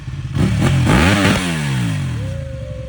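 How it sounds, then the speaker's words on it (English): A Ducati 1199S superbike fitted with a full Termignoni exhaust revs hard, its engine note climbing and then falling back with a throaty roar, loud and close throughout. "I was looking at an 1199S with a full Termagoni exhaust, and oh my god, that sounded so good too."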